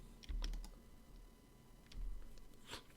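A few short clicks of a computer keyboard key being pressed, close and fairly quiet, with a couple of soft taps spread across a quiet room.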